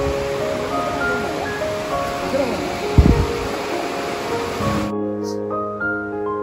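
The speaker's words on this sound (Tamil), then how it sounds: "ஆனால் தண்ணி ஓவரா பாயுது" Waterfall with water pouring fast, a constant broadband rushing hiss for about five seconds before it drops away, with people talking over it and a brief knock midway.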